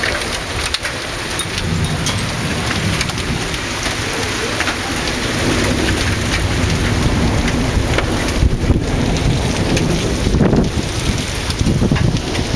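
Steady, heavy rainfall pours down continuously during a thunderstorm in Waco, with low thunder rumbling underneath and wind gusting through; the downpour stays loud and close throughout with no talk.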